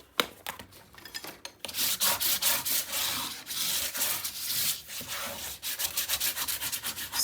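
Burnishing tool rubbed firmly over paper on a 10 x 10 scrapbook album, a continuous dry, scratchy swishing with back-and-forth surges, close and fairly loud with no talking.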